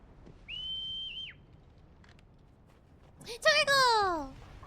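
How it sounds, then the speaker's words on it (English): In Final Fantasy XVI, a long, clear, steady whistle tone sounds for under a second, followed a few seconds later by a louder descending cry with rich harmonics. "And nobody heard that whistle."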